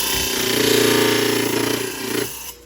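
A Genie trim saw attachment cuts through stone with a steady, loud grinding buzz that runs for about two seconds, then cuts off abruptly as the blade stops.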